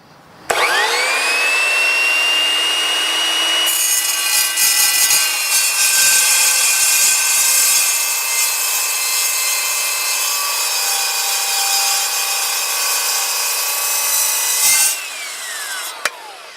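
Steady saw cut through a piece of stock with a new cutting tool, a loud continuous whining rasp running about eleven seconds after a brief start, then stopping abruptly, with no talking.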